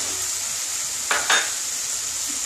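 Ingredients for Bengali-style yogurt cauliflower are sautéed in a pan. A soft continuous sizzle plays, broken by two quick clanks of a utensil against the pan near the middle.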